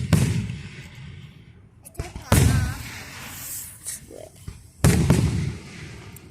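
Large fireworks exploding at a public firework show, three loud booming bursts spaced a couple of seconds apart, each followed by crackling decay, with people's voices heard between blasts.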